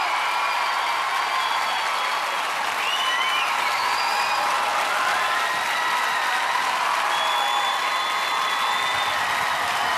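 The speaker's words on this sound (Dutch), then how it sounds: "Een daverend applaus voor Nick en Florentien" Dense, continuous audience applause with some cheering welcoming performers onto a stage, loud and sustained for about ten seconds, with scattered whoops rising above the clapping.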